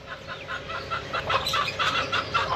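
Chickens clucking in a steady, busy chatter at a mini zoo, several birds close by with a dense farmyard murmur underneath.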